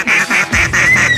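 Geese honking during a goose hunt, a rapid series of loud, close honks in quick rhythm with no voices.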